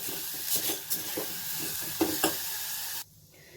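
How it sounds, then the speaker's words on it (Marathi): Grated coconut and jaggery cook in ghee in a pan, stirred with repeated scraping strokes over a soft sizzle, then the sound cuts off abruptly near the end. "त्याच्यात आपण हे खोबरं आणि गूळ घालून घेऊ यातला गूळ विरघळेपर्यंत फक्त आपल्याला हे शिजवून घ्यायचे"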